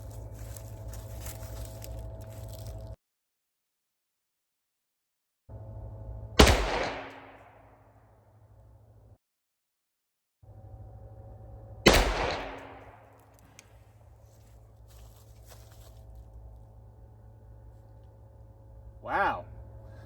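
Two sharp, loud rifle shots from a 10.5-inch 300 Blackout carbine during an outdoor accuracy test, each followed by a decaying echo, separated by several seconds, with a brief faint sound near the end.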